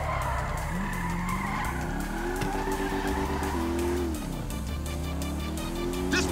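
Motorcycle chase in Grand Theft Auto V: a loud engine revs and shifts pitch up and down, with tire skids and squeals and car noise mixed in, continuous and close.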